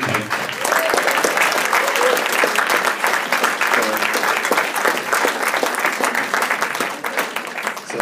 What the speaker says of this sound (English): So I'd like to have a big clap for Rebecca, because she's actually made our wedding cake.